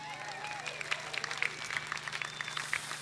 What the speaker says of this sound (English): So, folks, a big round of applause